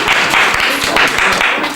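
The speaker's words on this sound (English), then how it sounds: "On applaudit une fois de plus." Guests at a modest welcoming ceremony applaud, a loud burst of dense clapping with some heavier individual claps and a low murmur mixed in, lasting under two seconds.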